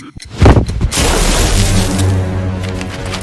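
A bomb blast in a Batman motion comic: a sharp, loud explosion followed by a sustained rumbling roar that slowly fades over a few seconds.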